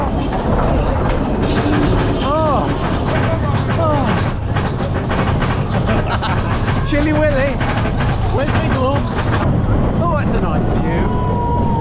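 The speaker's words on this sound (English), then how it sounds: "we're on the first manned train of the day" The Big Thunder Mountain roller coaster train at Disneyland Paris rumbles and clatters loudly along its track, with squealing wheel tones and riders' voices over the continuous roar.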